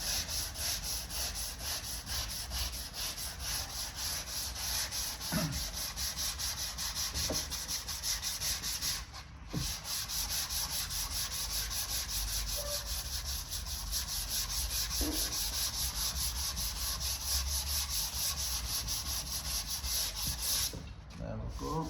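Hand sanding body filler smooth on a car panel during vehicle repair: a steady, close, continuous back-and-forth abrasive rasping that hardly pauses for over twenty seconds, with no talking.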